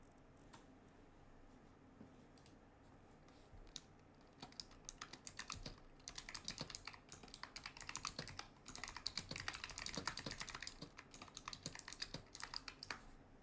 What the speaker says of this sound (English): I'm sorry you guys can hear me typing.